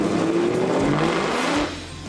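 Supercharged pro-touring 1969 Camaro running on a chassis dyno: a loud, close engine roar with a whining tone that climbs steadily, then drops back as the revs ease off near the end.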